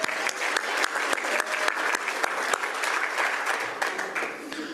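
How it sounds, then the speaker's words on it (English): An audience at a Rotary meeting applauds Ben, a steady burst of clapping from a roomful of people with crisp individual claps, lasting throughout without talk. "round of applause for Ben."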